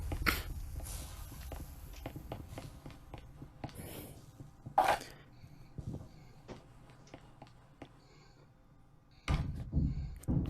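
A door is kicked in during the tactical shooter Breachers, a sharp thump followed by scattered footsteps and knocks, then another heavy bang near the end, all fairly faint in a quiet room.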